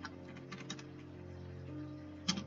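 Keys clatter on a computer keyboard while a weekly work schedule heading is typed into MS Word, a soft run of close taps ending in one sharper stroke.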